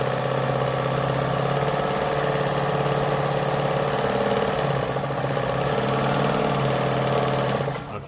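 A Jones model 556 sewing machine runs a zigzag stitch, a steady, close mechanical whir with a fast needle rhythm that holds for several seconds, then winds down at the end.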